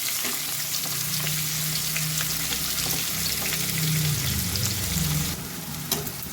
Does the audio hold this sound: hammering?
no